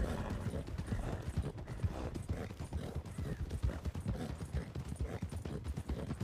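Horse hooves clip-clop steadily as a horse walks, a dense, even rhythm of close thuds that continues throughout against outdoor background noise.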